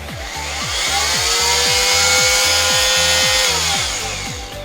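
A Galax Pro 400W oscillating multi-tool runs steadily on wood, its loud, continuous buzz carrying a fast rhythmic pulsing throughout, with no voices.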